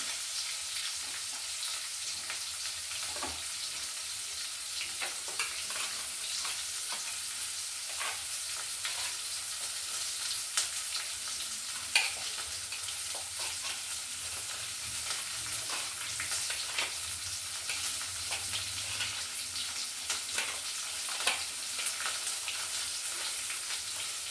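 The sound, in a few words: onion and green chili frying in pan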